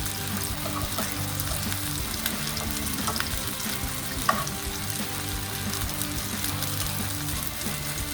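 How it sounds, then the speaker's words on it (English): Fresh noodles sautéing in a pan, giving a steady, close sizzle and frying hiss with faint stirring scrapes throughout and one brief clink near the middle. "So we'll try to saute this noodles."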